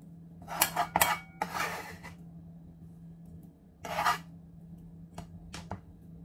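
Grilled milkfish being tossed with spring onions in a metal dish gives bursts of scraping, clinking utensil-on-pan sounds, several short clattering strokes separated by near-silent pauses, close and fairly quiet.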